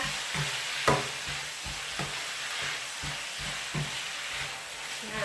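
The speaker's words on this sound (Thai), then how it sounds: "ผัดให้เข้าหอมค่ะ ให้เข้ากันนะคะ" Spicy squid with holy basil and oyster sauce is stir-fried in a hot pan, with a steady sizzle broken by regular scraping strokes of the spatula, close and alone.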